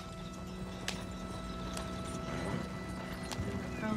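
Horse hooves drum at a gallop in the Western video game Red Dead Redemption 2, a steady clip-clop rhythm over an ongoing hum of gameplay ambience, fairly close and continuous.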